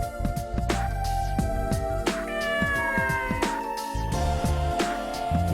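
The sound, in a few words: cat meowing in the video game Mind Zero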